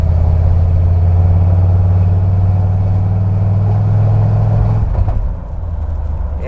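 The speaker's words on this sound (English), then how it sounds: "I think it's just backfiring." An OBS Chevy Tahoe engine runs rough, with a loud, steady low rumble close by that shifts and drops in level near the end. No separate pops stand out.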